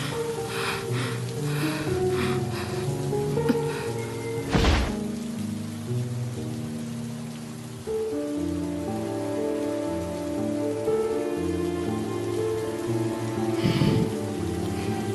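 Steady rain falls in a Sakura School Simulator game scene, a constant hiss of drops on surfaces running throughout under layered music tones, with two brief louder bursts partway through.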